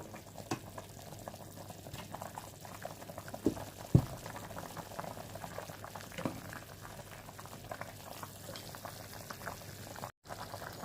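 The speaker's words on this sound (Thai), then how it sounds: "น้ำเดือดเต็มที่" Steady bubbling of water at a full boil in a pot with chicken, a continuous close simmering texture with a couple of brief clinks partway through.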